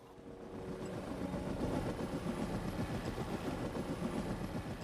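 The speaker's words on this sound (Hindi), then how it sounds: "अरे हेलीकॉप्टर आ गया" A helicopter arriving in a sitcom scene gives a low, rhythmic engine and rotor rumble that swells slightly and then holds steady, moderately loud, with no speech over it.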